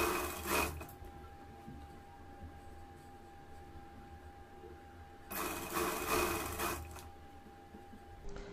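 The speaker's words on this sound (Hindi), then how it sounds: "बिल्कुल जड़ से सिलाई लगानी है" A sewing machine stitches round piping onto a garment neckline, running in two quiet bursts, one brief near the start and one longer near the end, with low room hum in between.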